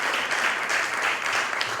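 Steady group applause fills a grief support meeting, many hands clapping together in a dense, even wash with no talk on top.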